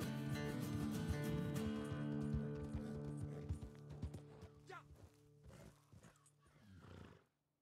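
In the video game Red Dead Online, a horse's hooves clip-clop in quick succession, loud and near at first, then thinning into scattered steps with a whinny before stopping.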